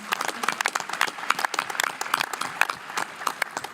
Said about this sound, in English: That's one more round of applause for Liam.